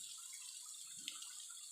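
Telogo Muncar waterfall in Kaliurang, Yogyakarta, heard as a faint, steady hiss of falling water with a soft, brief splash partway through and no voices.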